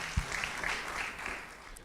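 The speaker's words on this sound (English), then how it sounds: "May I have a round of applause for all of the candidates" Applause from an audience for school candidates at a youth congress event, a steady patter of clapping lasting under two seconds with a brief low thump near the start.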